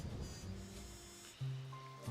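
Steady rain in the Discworld Noir video game, a soft continuous patter washing under low ambient game tones that swell slightly near the end.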